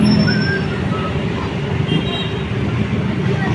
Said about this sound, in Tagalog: Kaya sunod-sunod ang arriving ng ating bus galing Maynila.